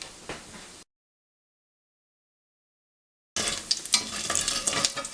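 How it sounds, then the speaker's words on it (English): Whole garam masala, cinnamon, cardamom, clove, dried red chilli and panch phoron crackle and splatter in hot oil, a faint sizzling hiss that cuts out briefly and returns more vigorously. "Let the spices splatter."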